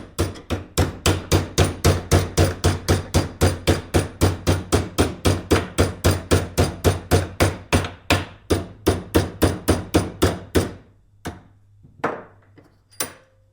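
Rapid, evenly spaced hammer blows ring on copper, about three per second, then slow to a few scattered, softer taps at the end.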